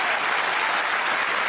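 A dense wash of studio audience clapping at a talk show, loud, close and continuous, with no breaks or other sounds.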